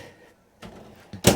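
A cabinet door in a 2026 Tiffin Wayfarer 25RW motorhome closes with soft movement, then one sharp, close latching thunk.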